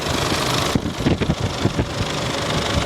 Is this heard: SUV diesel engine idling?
yes